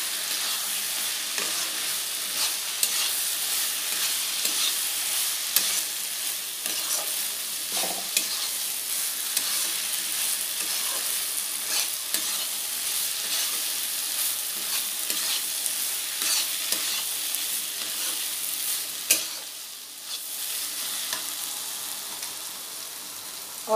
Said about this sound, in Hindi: इसमें मैं दे रही हूँ फ्राई हुआ चूड़ा, इसको अच्छे से मिक्स कर लेती हूँ।